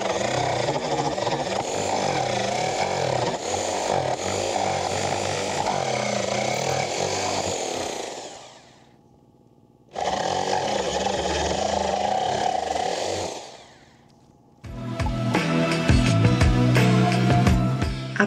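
A jigsaw cuts through wooden planks in loud, buzzing runs with two short pauses between cuts, followed by a harsher, more ragged burst of cutting noise.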